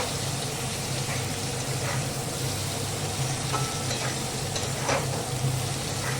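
Raw mango pieces fry lightly in a pan for a mango rohu fish curry, producing a constant close sizzle with occasional soft stirring scrapes; nobody talks.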